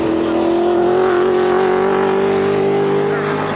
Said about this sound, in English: Listen to the gear change on those dog boxes